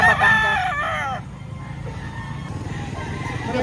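Roosters crow loudly and close by among many chickens at a busy Saturday poultry market in Lipa, Batangas, with clucking fowl and crowd noise continuing after the crow.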